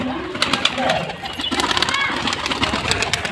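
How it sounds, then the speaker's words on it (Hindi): Several pigeons stir and coo close by on a rooftop with a perch umbrella, soft murmuring calls and wing flutters running steadily under someone talking. "ये देखिए, धीरे धीरे करके सारे कबूतर बाहर आ रहे हैं।"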